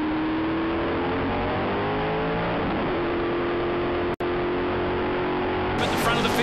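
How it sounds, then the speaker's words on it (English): Formula 5000 race cars roll off at a rolling start in the rain, a loud sustained engine roar with rising revs and wet hiss, under a commentator's voice. "Formula 5000 cars in the rain."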